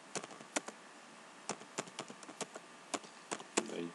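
Keys on a computer keyboard clatter in irregular, close taps and short bursts, some strokes sharper and louder than others, with no talking.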